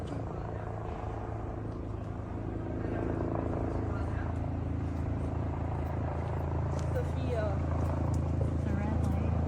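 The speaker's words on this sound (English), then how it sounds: "There's a helicopter now." A helicopter passes overhead at night as a steady rotor rumble that slowly grows louder, with people talking under it.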